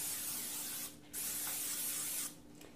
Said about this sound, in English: So you'll go ahead and spray down your cookie sheet.